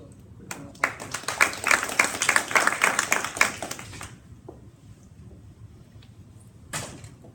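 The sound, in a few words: applause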